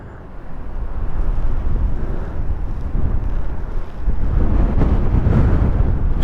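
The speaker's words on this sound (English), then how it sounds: "for October, but it is windy" Strong wind buffets the microphone on a Honda CB650R motorcycle ride in October, a loud, continuous low roar that swells and gusts with no talking.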